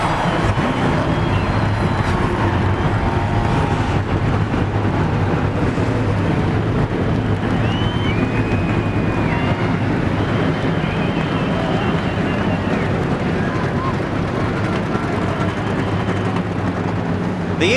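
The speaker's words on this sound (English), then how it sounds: "The engines have fired" Race car engines at the start of a NASCAR race, the 2004 Tropicana Twister 300, roar together in a continuous, loud, rumbling wall of noise with wind buffeting the microphone.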